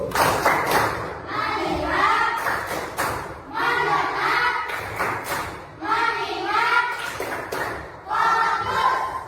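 A classroom of students performs a rhythmic 'tepuk fokus' clapping routine, with bursts of group clapping recurring in a steady pattern and chanting voices woven through each round.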